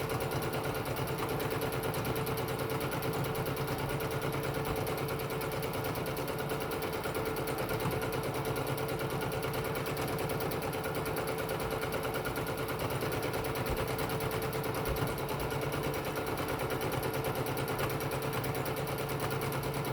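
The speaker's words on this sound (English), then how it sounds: "get to the edge, and then I do my back stitching" A sewing machine runs steadily while stitching a pillowcase, its close, continuous mechanical whir holding an even hum throughout with no pauses and no talking.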